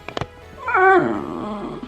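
A dog growls once in a low, rising-and-falling rumble of about a second, close and fairly loud, after a couple of brief sharp noises at the start, with no talk.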